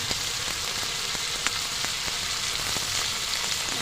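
Chopped tomato with turmeric, black pepper and Kashmiri chilli powder sautéing in a pan for chicken curry, giving a steady close sizzle and fry with a few faint stirring taps, no talk.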